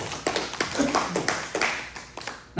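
Congregation clapping during a church sermon, a handful of scattered, fairly soft claps at irregular intervals in a reverberant room, with no voices over them.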